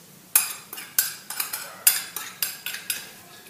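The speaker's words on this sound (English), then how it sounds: "I'm going to stir that up." A utensil clinks and scrapes against a bowl while stirring sugar, salt, oil and dry yeast for flatbread dough, a dozen sharp rhythmic taps close up, no voices.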